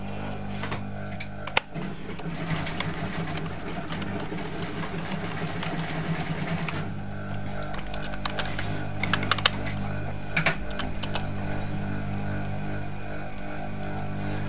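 Rapid clicking on a computer keyboard during a Fortnite match, steady and continuous, set against a constant low game hum.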